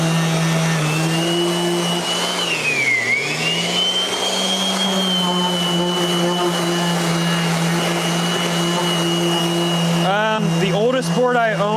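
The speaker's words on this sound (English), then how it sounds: "Festool vacuum system." A Festool vacuum system runs loud and steady as a continuous whine with a brief pitch dip, while handcrafted skateboard decks are made; voices join near the end.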